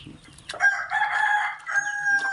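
A rooster among backyard chickens crows one long, loud, drawn-out call close by, followed by a second shorter crow, with little else around.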